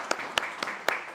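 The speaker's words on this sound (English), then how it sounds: "we need to give a round of applause to Christine Engel" Audience at the 2023 City of Gastonia art show applauding, with a few sharp, distinct claps standing out over a steady patter of clapping, fairly close and alone without talk.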